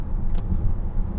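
Road noise inside a 2023 Volkswagen ID.4 on rough road, a dense low rumble with steady tire and suspension thumps, loud and close.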